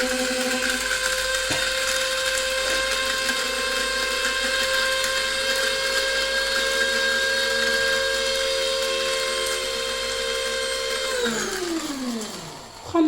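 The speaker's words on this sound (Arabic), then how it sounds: "غندبر موينيكس ونجي نطحن" A Moulinex electric grinder runs steadily at high speed, a loud continuous whine with strong motor harmonics, then it spins down sharply near the end as the blades slow to a stop.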